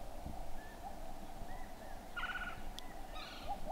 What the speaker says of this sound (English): the sound of these birds is making me happy